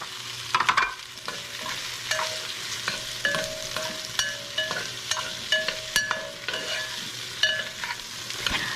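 Celery being stirred and fried in a pan with chicken afritada ingredients, a steady close sizzle broken by repeated scraping strokes of a utensil, with no talking.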